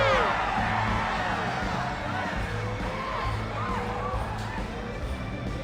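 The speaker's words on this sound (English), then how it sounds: "The cheering grows louder and louder." Game crowd in Reverse 1999 cheering and whooping, a dense, steady wall of voices with shouts rising out of it, over low musical tones, continuous and fairly loud throughout.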